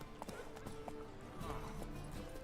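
Horse hooves clip-clop at a trot in The Witcher 3: Wild Hunt, faint and repeating under game ambience and music.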